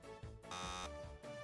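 Game show buzzer in a Hearthstone quiz, a loud steady electronic tone with several short bursts over about a second and a half, no talk.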